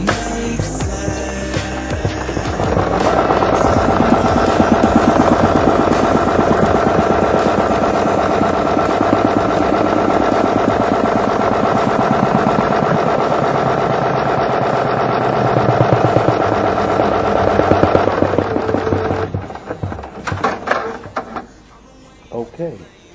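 An embroidery machine runs a single-run stitch around the full border of a custom patch. A steady, loud mechanical whirring with rapid needle clatter carries on for about fifteen seconds, then slows and stops, followed by a few handling knocks.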